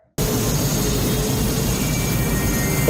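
A helicopter carrying the main villain in the 1988 film Rambo III, heard as a loud, steady, dense engine and rotor roar that cuts in abruptly and holds without a break.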